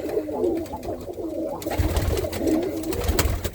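Soft, throaty Birmingham Roller pigeon coos repeat in low rolling phrases, close by, with faint rustling and outdoor background noise and no talking.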